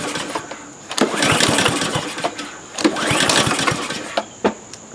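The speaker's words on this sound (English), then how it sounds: "Recoil rope starter pulls real nice. All right, it clearly does not wish to start" Troy-Bilt lawnmower with a Honda GCV160 engine being pull-started by its recoil rope several times, each pull giving a short whirring cough of the engine that fails to catch, with quiet gaps between attempts.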